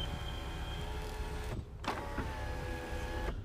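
Electric sunroof motor on a 1991 Toyota Celica whirs steadily for about a second and a half, pauses briefly, then runs again, close and alone with no talking.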